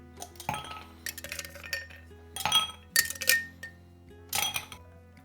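Ice dropped into a cocktail glass while making a Matador cocktail, several bright clinks and rattles in separate bursts, close and clear with no talking.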